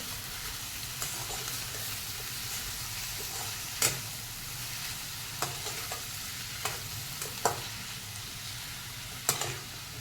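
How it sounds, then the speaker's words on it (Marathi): Ridge gourd pieces being sautéed with onion in oil give a faint, steady sizzle close by, broken by several sharp spoon clicks against the pan at irregular intervals. "आता आपण त्याच्यामध्ये घालणार आहोत घोसाळ्याच्या फोडी त्याही आपण एक दोन सेकंद परतून घेणार आहोत"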